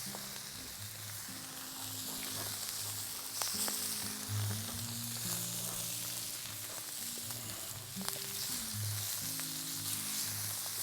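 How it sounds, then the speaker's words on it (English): Scallops with garlic, chilli and fatty minced-pork chorizo sizzle on a Vulcanus grill, giving a steady, close, loud frying hiss that lasts throughout, with faint clinks and low tones underneath. "and a fantastic sizzle going down now."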